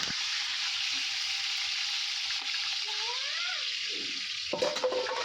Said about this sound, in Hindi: मैंने इसमें प्याज डाली और इतनी छन छन की आवाज़ आ रही है